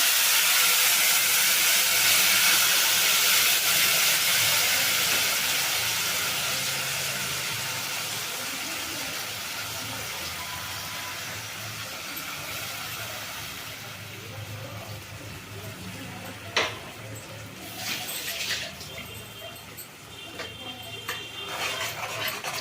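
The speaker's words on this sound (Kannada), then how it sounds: "ಹುಣಸೆ ಹುಳಿ ಚೆಂದ ಕುದಿಬೇಕು" Tamarind gojju for puliyogare simmering in a pan, a steady steamy hiss and soft bubbling that slowly fades, then a few sharp clinks and stirring scrapes toward the end, with no talking.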